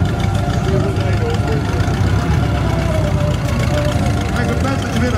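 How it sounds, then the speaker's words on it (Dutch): A 1952 Minerva G Belgian army vehicle idles on its 2-litre four-cylinder engine at an oldtimer meet. The engine keeps up a loud, close, steady low rumble throughout. "Voertuig is een Minerva G van het Belgische leger en van 1952. Er ligt een 2 liter motor in,"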